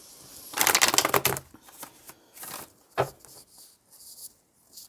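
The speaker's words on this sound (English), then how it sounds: "Let me give it another shuffle." Tarot cards being shuffled by hand in a few quick riffling bursts, close and crisp, with short pauses between.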